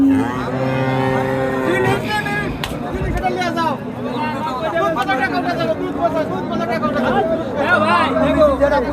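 A busy outdoor cattle market hums with many overlapping voices, while dairy cows low loudly nearby, their long moos rising over the crowd chatter.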